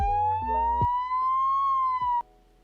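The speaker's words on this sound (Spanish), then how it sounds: "¿Alguna vez hemos escuchado el sonido de la sirena de una ambulancia?" A single siren tone glides slowly upward then cuts off abruptly, loud and close, with nothing else around it.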